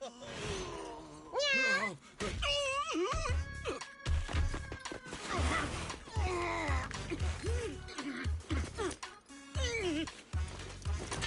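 A cat character meows several times in the video game Zenless Zone Zero, mixed with other voiced game sounds, hits and thuds in a busy, shifting soundscape.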